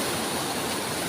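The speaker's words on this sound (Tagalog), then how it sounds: "Ganda ng ilog." Steady rushing river water near Mother Falls in Aurora, a dense continuous broadband flow with no pauses, close and fairly loud, with no voices.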